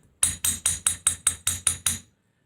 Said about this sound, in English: it's especially important to hold both sides of this when you're going to use your chasing hammer